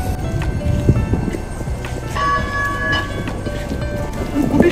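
A commuter train arrives at a snowy station in Canada with a steady rumble and rhythmic clatter of wheels, joined midway by a brief high-pitched squeal, fairly loud and close.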